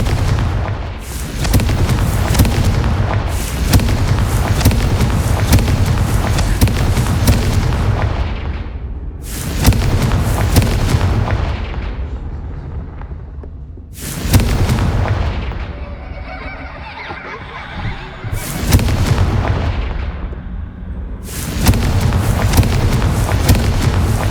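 Confringo blasting spells in the video game Hogwarts Legacy, a run of loud booming explosions with rumbling tails, broken by a few brief quiet gaps before fresh blasts, close and heavy with no speech.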